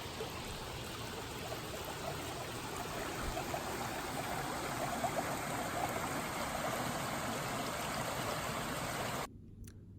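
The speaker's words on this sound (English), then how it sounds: "This is Diamond Creek." Diamond Creek runs in a steady, close rushing flow along a green forest trail, a continuous babble of water that cuts off abruptly near the end.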